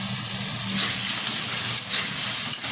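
Egg curry masala with a little water bubbles and steams in a hot pan as the lid comes off, a close, steady hiss and soft sizzle with faint simmering pops throughout.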